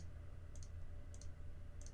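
Computer mouse clicks while selecting parts in ProNest LT nesting software, a few quick soft clicks spaced apart over a faint steady hum.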